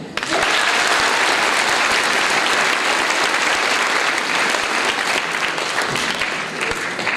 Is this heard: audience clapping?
yes